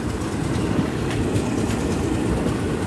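A passenger train bound for Virar passes close by on its rails, a loud continuous rumble and roar with faint rhythmic clatter of wheels throughout and no talking.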